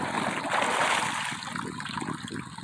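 Water from a shower on a farm pours and splashes steadily at close range, a continuous hiss that fades slightly toward the end, with no talking over it.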